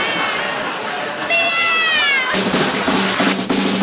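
A voice imitates a cat's meow, drawn-out and tonal, followed by a noisier, rougher stretch of sound with no pause.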